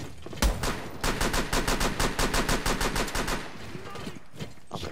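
Rapid automatic gunfire from Rainbow Six Siege rattles in long, loud bursts of closely spaced shots, starting with a sharp crack, then thinning out toward the end.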